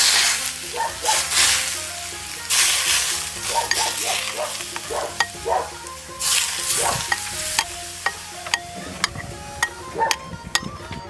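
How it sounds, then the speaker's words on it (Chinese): Hot oil is poured over minced garlic and chili flakes, giving a loud, bursting sizzle that fades into crackling, stirring and sharp clinks of a utensil against a bowl. "泼上热油，"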